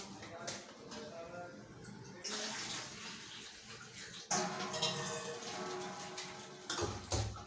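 Water pours and splashes in a home kitchen while cooking, a soft running stream broken into a few uneven bursts, with faint background voices and some clatter of pots.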